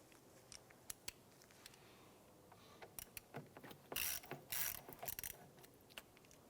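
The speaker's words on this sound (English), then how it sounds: "We're going to use our 8mm socket and extension for that one as well." A hand ratchet with an 8mm socket and extension loosens a throttle body clamp on a 2007-2012 Nissan Versa, giving quiet, close, irregular clicks in short bursts, including a louder run of rapid ratcheting near the end.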